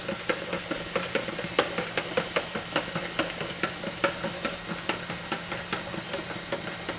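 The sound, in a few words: filling a Kool-Aid container with water while stirring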